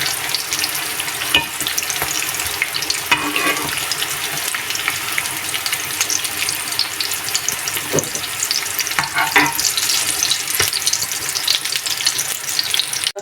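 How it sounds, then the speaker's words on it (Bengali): Pointed gourd (potol) slices fry in hot oil with a steady, dense sizzle, while a spatula stirs and scrapes the pan in occasional clattering strokes, close and continuous with no voices. "পটলগুলোকে আমি নেড়ে চেড়ে ভেজে নিচ্ছি।"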